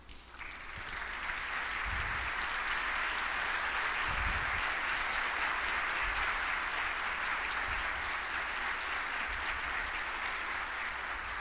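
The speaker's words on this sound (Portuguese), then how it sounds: "peço uma carinhosa salva de palmas" An audience applauds steadily for about eleven seconds to welcome a doctor onto the stage at an evening lecture, a dense, even wash of clapping with no voices.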